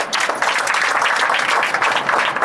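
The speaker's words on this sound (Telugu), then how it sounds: "చప్పట్లు కూడా" A church congregation applauding during a Sunday worship service in Indukurupeta, Nellore, a steady, dense wash of clapping that fills the room without pause for a couple of seconds, with no voices rising above it.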